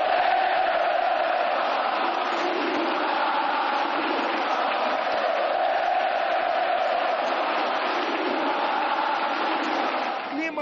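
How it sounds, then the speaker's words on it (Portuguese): Palmeiras football fans fill a stadium with a steady roar of singing and cheering, a loud continuous crowd wash that holds constant throughout without breaks. "expectativa de uma torcida que canta e vibra"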